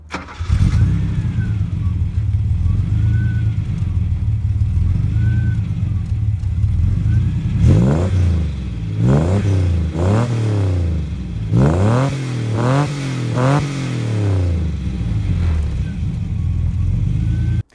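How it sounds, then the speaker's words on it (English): A Ford Capri 2.8 Injection V6 from the 1980s idles with a steady, deep burble, then gives a series of sharp, loud throttle blips and rising revs in the middle before settling back to idle. "As you'd expect, the V6 makes all the right bellowing muscular noises."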